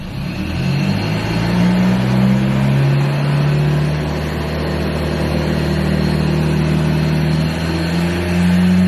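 A Ford Ranger engine with a budget power chip installed is held at a steady rev of about 2,000 RPM, giving a loud, continuous mid-pitched drone with slight pitch wobble, close up and alone.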